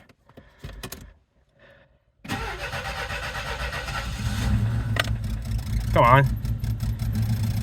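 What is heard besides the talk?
1982 Saab 900 Turbo engine starting and idling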